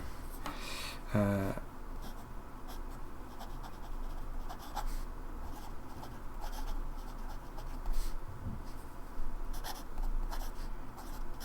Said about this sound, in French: On va faire des traits à côté pour vous montrer.